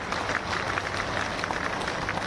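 A crowd claps at a political event in Bhopal attended by Chief Minister Mohan Yadav, giving a brief, even patter of applause that sounds somewhat distant and steady throughout.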